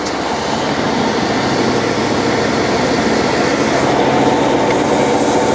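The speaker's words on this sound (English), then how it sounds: "We're in the pipe, and then I'm going to throttle up." A cold water sewer jetter engine runs steadily with a loud, dense mechanical roar and drone while it is being throttled up, continuous and close with no pauses.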